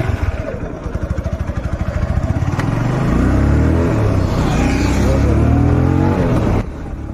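A TVS Apache RTR 160 motorcycle rides along, its engine note loud and close with a rising, rhythmic pulse early on that smooths into a steady, strong drone before easing off at the end.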